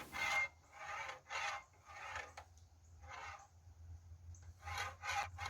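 Katana blade being sharpened on its second bevel with a homemade sharpener, a steady rasping scrape repeated in about six even strokes, close and fairly quiet, with no voice.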